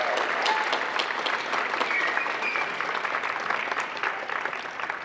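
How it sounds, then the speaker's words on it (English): Sustained applause from a crowd at a university graduation ceremony, dense steady clapping that fills the whole stretch without a break. "Let's give all the volunteers a round of applause."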